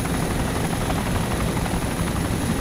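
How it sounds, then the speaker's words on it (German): A helicopter in the video game DayZ Origins drones with a loud, constant rotor and engine roar throughout, close and unbroken. "Auch wenn wir jetzt einen anderen Heli haben, der zweite Heli ist immer ganz hilfreich."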